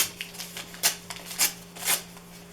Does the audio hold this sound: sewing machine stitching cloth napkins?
no